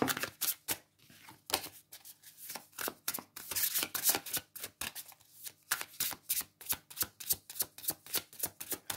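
Tarot cards shuffled by hand in steady, crisp riffles and slaps, close and fairly soft, repeating rhythmically over several seconds with no talking.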